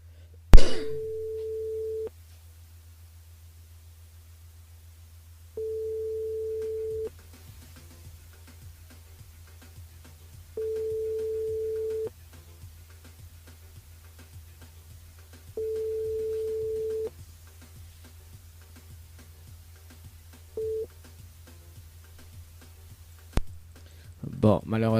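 A telephone busy signal on a radio call-in line repeats as a steady tone in evenly spaced bursts over a low hum, with clicks at the start and end.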